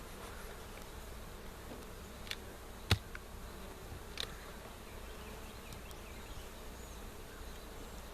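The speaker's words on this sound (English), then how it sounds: "There's a few bees up in this super," Bees buzz around a beehive super on a hot, sunny summer day, a faint, steady hum with a couple of sharp clicks near the middle.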